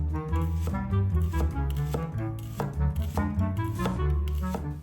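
A knife chops chives on a cutting board in a rapid run of crisp, close strikes, with music playing steadily underneath.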